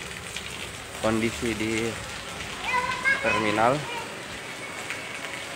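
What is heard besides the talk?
heavy rain at Daya bus terminal, Makassar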